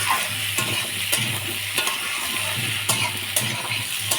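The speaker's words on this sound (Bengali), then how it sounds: "আর আলুগুলো এখন ভাজতেছি।" Potatoes fry with browned onions in a pan of goat meat curry, a loud close sizzle with regular scraping stirs clacking every half second or so, and no voices.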